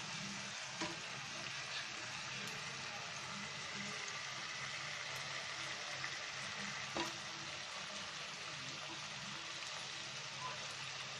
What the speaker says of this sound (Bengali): শিং মাছটা যখন আমরা কষাবো তার সাথে আমরা আলুগুলো দিয়ে দিব